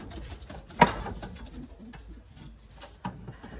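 Racing pigeons in a loft coo softly against low background noise, with a louder burst near the start and another toward the end.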